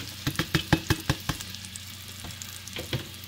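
Onions and potatoes frying in a pan, a steady sizzle under a quick run of sharp knocks from stirring, then a quieter stretch with a few more scattered taps near the end.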